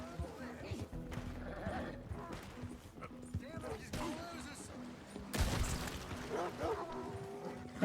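Tennessee Walker horse hooves clatter rapidly amid gunfire and shouting in a chaotic Red Dead Redemption scene, with the horse whinnying as voices talk over the action.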